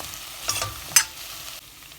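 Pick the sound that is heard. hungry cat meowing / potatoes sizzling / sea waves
potatoes sizzling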